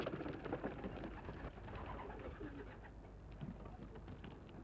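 Pigeons coo in a backyard loft among pigeon-flyers' pens, a steady murmur of soft calls under constant low background rumble, with occasional distant traffic.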